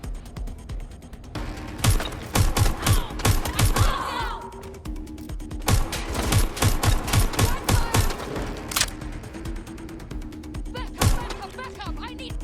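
Rapid bursts of gunfire in the video game Watch Dogs Legion, sharp repeated shots clustering in volleys over several seconds amid game noise, with a voice talking in between.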